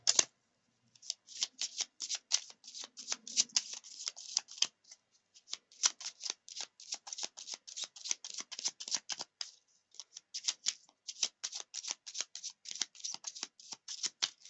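Tarot cards shuffled repeatedly in quick riffling bursts, crisp and close, with brief pauses between runs and no talking.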